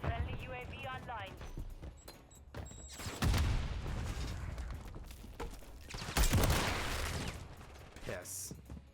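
Gunfire in a shooter video game: bursts of rapid automatic shots and booming blasts in two dense clusters, loud and close, mixed with other game noise.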